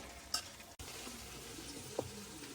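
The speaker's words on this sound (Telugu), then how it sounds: "దాని తర్వాత దీన్ని తిప్పుతా ఉండాలి" Chicken curry stirred in a pan on the stove, a steady close sizzle with soft scraping, broken by a couple of brief sharp clinks of the spoon against the pan.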